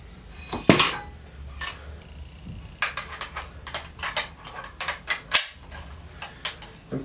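Metallic clinks and taps as a seal driver seats a fork seal on a Honda motorcycle fork, several sharp, close, irregular strikes over a quiet background.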